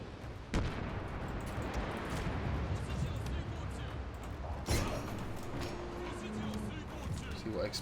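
Ship broadside cannons boom in the naval battle of Shogun 2 Total War, with two sharp heavy blasts standing out over a rumbling battle din while a voice talks.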